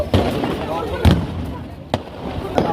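Fireworks burst at the Nagore Dargah Kandoori festival, with several sharp cracks and booms spaced out irregularly over crowd noise, as people talk nearby.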